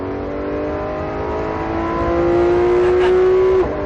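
A 2020 Polaris RZR side-by-side engine revving on throttle, a loud steady drone that climbs in pitch as it accelerates, then drops off sharply near the end, with no talk.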